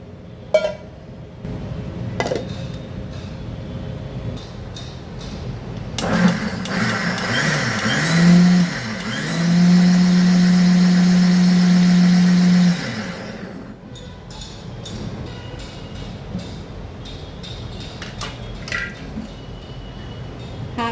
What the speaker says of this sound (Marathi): हे मिक्सरला लावून फिरवून घेऊया.